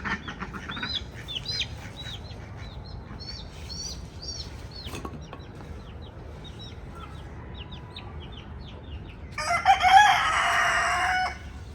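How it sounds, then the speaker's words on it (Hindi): Chickens in a rural yard after a hen and her chick were caught, with a rooster crowing nearby and repeated bird calls, then a loud burst of clucking and wing flapping near the end. "मुर्गी पकड़ी गई है और उसका एक बेबी, तो इसको सबसे पहले बंद कर लेते हैं।"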